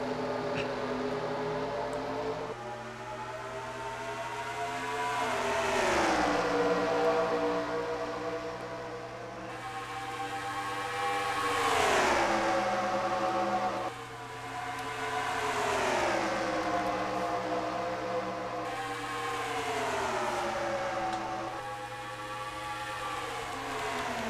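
Stock cars race at Iowa in a racing video game, with engines rising and falling in pitch as they pass in waves, a continuous loud drone without talk.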